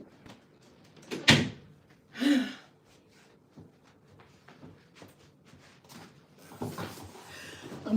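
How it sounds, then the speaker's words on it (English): A door being shut indoors at home, one firm bang near the start followed by a second softer thump, with rustling and movement sounds afterward and no talk. "Let me shut my"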